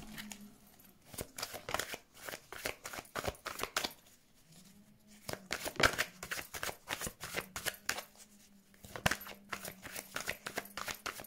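A deck of tarot cards is shuffled by hand in a quiet room, with repeated soft riffling flicks and taps coming in short irregular bursts.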